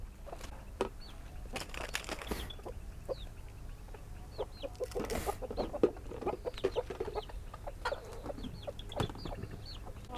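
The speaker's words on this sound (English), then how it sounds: "Chickens love the food scraps." Chickens on a tropical homestead pecking at compost food scraps, with frequent clucks and short squawks from several birds at close range, along with some wing flaps and scratching over a low background hum.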